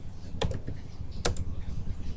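Computer keyboard keys clicked while typing Java code, a handful of distinct taps with two sharper strokes standing out over a low steady room hum, close and fairly quiet.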